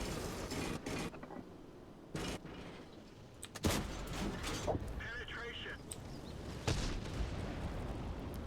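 Tank cannon fire from a T25 Pilot in World of Tanks, with a few sharp broadband shots spaced slowly apart, amid mechanical creaks and battle ambience while someone talks over it.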